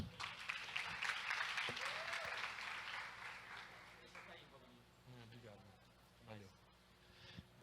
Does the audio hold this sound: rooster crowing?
no